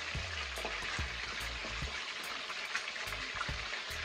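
Fish fries in hot oil on a kitchen stove for escovitch, a steady close crackling sizzle with scattered pops and spits, fairly quiet and heard alone without speech.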